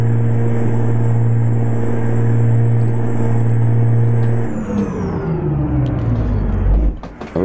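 In American Truck Simulator, a heavy truck engine drones loud and steady with a turbo whine above it, then the pitch drops as the engine winds down and rumbles lower near the end.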